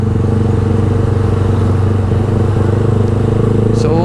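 Motorcycle with an open MIVV muffler exhaust, a steady loud idle-like drone with a raspy pulsing low rumble, close by and continuous, with faint traffic in the background.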